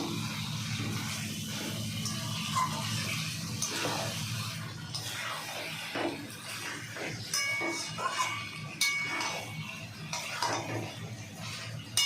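Mutton chaat being stirred in a pot in a Bengali kitchen, with a run of irregular clinks and scrapes of a spoon against the metal over a low background hiss.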